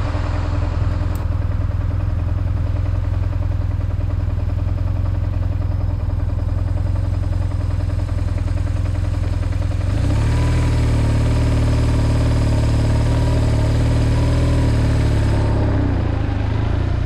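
A BMW R1150GS boxer-twin motorcycle runs with a steady, loud mechanical thump close by, its note rising as the engine is revved partway through and then settling back.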